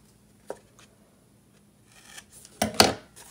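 Scissors cutting paper for a 7x7 mini album, a quiet snip followed by a pause and a short louder run of close crisp cuts.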